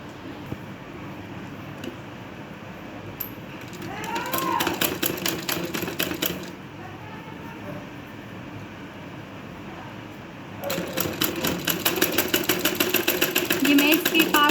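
A sewing machine stitches a fold on a blouse sleeve in two bursts of fast, steady, rhythmic whirring, each lasting a couple of seconds. Someone talks throughout, and the machine's hum sits under and between her speech.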